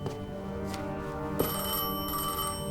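A telephone bell rings repeatedly in the Destiny 2 video game, steady and prominent over a low ambient game score, with no talking.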